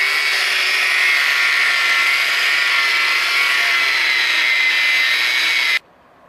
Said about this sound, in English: So I want to cut this lug nut down.